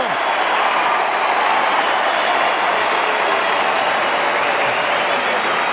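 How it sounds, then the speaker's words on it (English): Melbourne football supporters roar and cheer in a stadium with a steady, loud crowd wash throughout, a small but passionate crowd sustaining the noise without break. "You'll hear the crowd go up."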